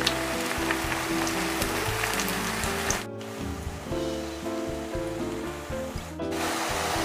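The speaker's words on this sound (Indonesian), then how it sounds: "Digoreng sampai matang, sampai kecoklatan, tapi tidak sampai kering sekali ya teman semua" Tempeh sizzles and crackles steadily in hot oil in a pan while being stirred, a dense continuous frying hiss with brief dips around the third and sixth seconds, with no talk.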